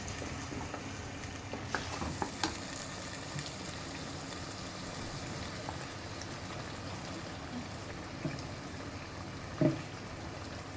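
A tomato, ginger and garlic masala frying in a pan, a steady soft sizzle with a few faint stirring clicks and no talk.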